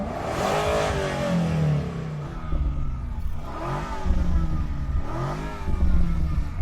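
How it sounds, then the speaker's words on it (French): A BMW M5's engine revs hard from outside the car, loud and continuous, with rising and falling pitch sweeps as the throttle is blipped repeatedly. "Je vais donc faire monter dans les tours ma BMW."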